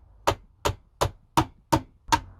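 Hammer striking nails into pallet wood braced with a block and wedge: six sharp, evenly spaced blows, loud and close, with a brief ring after each hit and no talk.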